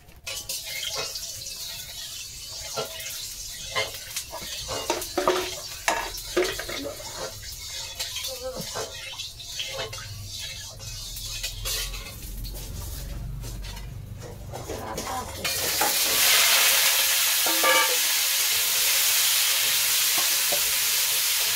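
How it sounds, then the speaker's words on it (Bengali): Potatoes frying in a pan for an egg-and-potato dish, a steady close sizzle with frequent stirring clatter, growing louder and denser in the final seconds, with no talking. "আগে আলুটা ভাজা করে উঠিয়ে নেবো"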